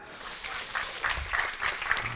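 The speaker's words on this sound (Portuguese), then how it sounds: "Dá um aplauso ao Senhor." Church congregation applauding during a Portuguese-language sermon on fasting, a moderate, steady clatter of clapping lasting a couple of seconds with small bursts of louder claps.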